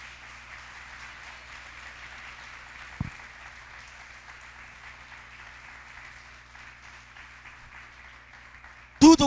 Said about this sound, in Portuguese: Aplaude a palavra do Senhor.